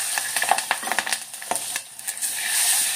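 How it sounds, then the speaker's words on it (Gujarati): Mustard seeds, asafoetida, turmeric and chilies sizzle in hot oil for a green chili sambharo, with close, irregular crackles and pops over a steady hiss. "તળતળવા લાગી છે પછી થોડીક હિંગ નાખશું, થોડીક હળદર અને મરચાં નાખી દેશું."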